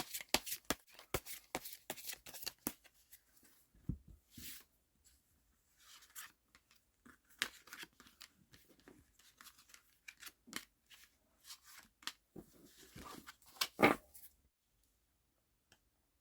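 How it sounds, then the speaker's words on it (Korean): Tarot cards are drawn and shuffled close up, with soft papery slides, flicks and taps coming in irregular bursts amid quiet pauses. "그럼 카드 뽑을게요."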